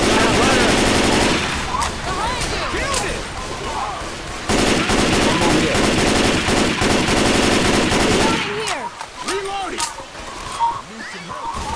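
Rapid machine gun fire rattles through a shooter video game, dense volleys running for several seconds, pausing, then resuming before thinning into scattered shots, with a voice talking over parts of it.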